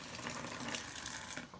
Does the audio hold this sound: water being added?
yes